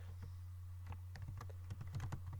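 Code is typed on a computer keyboard, with quiet, irregular clicks and short rapid bursts of keystrokes at close range and no talking.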